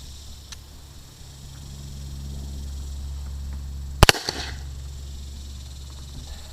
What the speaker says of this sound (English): That was the Howdah pistol